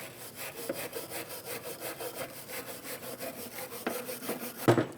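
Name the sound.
cleaning BMW X1 brake caliper bracket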